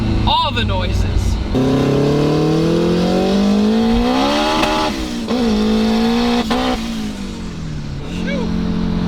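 A big-turbo Honda S2000 making over 600 wheel horsepower, with a hood exit, revs and accelerates hard from inside the car, its engine note rising and falling through gear changes, loud and close, with voices talking over it.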